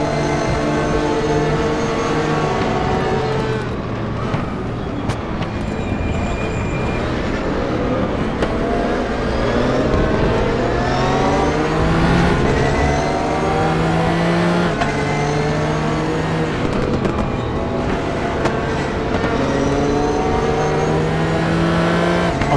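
Race car engine in the RaceRoom Experience racing game, revving loudly and continuously with rising and falling pitch through gear changes, dominant and close throughout with no voices.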